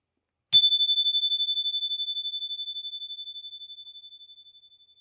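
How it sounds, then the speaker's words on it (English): A single chime is struck once, giving a bright, clear ring that sustains and slowly fades over several seconds with a faint pulsing shimmer, alone in a quiet room. "I'll hit that chime again"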